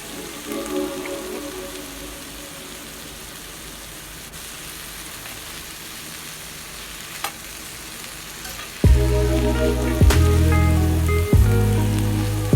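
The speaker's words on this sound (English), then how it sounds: "Then we're just going to add our cooking wine and let the alcohol cook off a bit, and then we toss that together." Vegetables for shrimp-and-beef chow mein sizzle in a pan, and the sound suddenly jumps to a loud, bursting hiss when cooking wine hits the hot pan. Clattering tosses of the pan follow.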